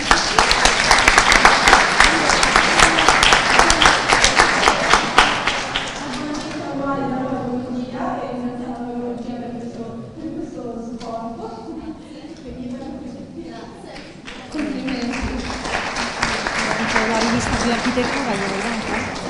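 Applause at an award ceremony for a winning poster: a loud dense burst of clapping fades, then talk with a few scattered claps over murmuring voices before the clapping swells again, near and lively.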